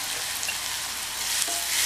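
Onions sautéing in a pan for Tamil kara kuzhambu, a steady close sizzle and frying hiss with faint stirring, no talk.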